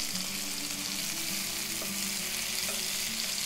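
Fish frying in a pan for a Polish fish fry, a steady close sizzle and crackle with a few faint stirring scrapes, with no voices.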